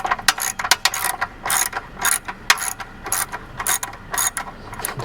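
Socket ratchet clicking in quick irregular bursts while loosening a muffler clamp bolt on a Honda SCL500 motorcycle exhaust, close and fairly loud with short pauses between strokes.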